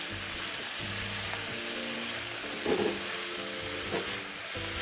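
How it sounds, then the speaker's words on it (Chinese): Enoki mushrooms and garlic leaves stir-fried over high heat in a wok with chili oil, a steady sizzle running throughout with occasional scraping stirs and clinks of the spatula, close and alone without voices. "再将清理后的金针菇2包、蒜叶加入一起拌炒"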